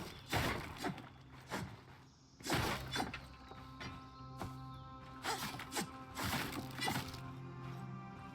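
Objects being smashed in the video game Eternal Strands: several sharp crashing, shattering impacts in bursts, with clattering debris and a steady low mechanical hum beneath, no talking.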